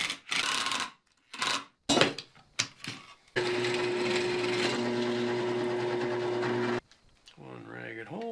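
Power drill boring a ragged hole through a Harbor Freight wheel, a steady loud whine lasting several seconds after a few short bursts and clatter, with a voice briefly before and after.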